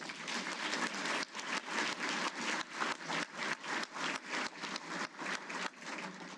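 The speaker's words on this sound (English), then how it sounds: "Give her a round of applause." An audience at a Hall of Fame awards ceremony applauds, with steady, rhythmic clapping at moderate volume that continues throughout.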